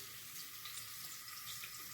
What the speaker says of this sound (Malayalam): ഉള്ളി പൊരിഞ്ഞ് വരുമ്പോൾ